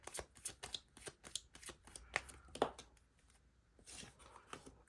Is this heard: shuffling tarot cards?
yes